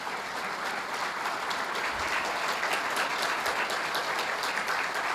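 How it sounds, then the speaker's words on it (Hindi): An audience claps steadily to welcome guests at a Hindi-language gathering. The applause comes from a large crowd, sustained and even for about five seconds, with no talk over it. "जरा उनकी ताली बजा दीजिए, उनका स्वागत करिए।"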